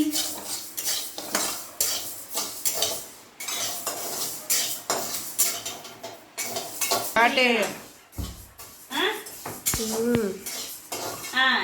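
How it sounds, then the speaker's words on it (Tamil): Rice dry-roasting in a pan as a metal spoon stirs and scrapes it, giving repeated close clinks and rustles in an uneven rhythm, with someone speaking briefly over the stirring toward the end. "அடுத்தது நம்ம அரிசி வறுத்துக்கலாம்."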